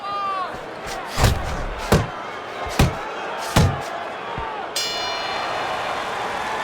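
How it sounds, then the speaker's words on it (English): A boxing bell marks the end of a round in Fight Night Champion. Several sharp metallic strikes come in quick succession, then a clear bell tone rings on, bright and sustained, over faint crowd noise. "And the bell rings, signifying the end of the round"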